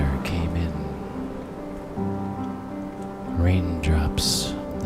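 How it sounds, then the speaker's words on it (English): Storm sound effect of steady rain with low rumbles of thunder rolling in twice, mixed under a sustained tonal hum, fairly close and moderately loud. "The rumble of thunder came in. Rain"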